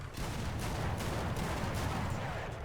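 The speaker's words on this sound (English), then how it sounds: "there's high explosive rounds exploding like right in front of my face" High explosive tank rounds bursting in War Thunder, a dense, continuous rumble of blasts and crackling debris, loud and close throughout.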